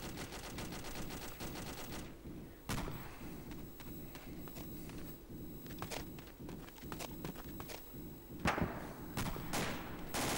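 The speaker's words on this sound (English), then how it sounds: "Heavy machine gun bearing" Heavy machine gun fire in a multiplayer war game set at the Battle of Qala-i-Jangi, rapid sustained bursts mixed with scattered sharp shots and thuds, moderately distant and muffled throughout.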